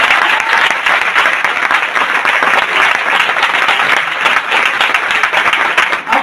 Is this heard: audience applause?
yes